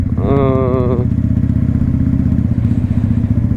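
A Honda Shadow 600 cruiser motorcycle's twin engine rumbles loudly at idle with a deep, lumpy throb; a brief voice-like tone rises over it early on.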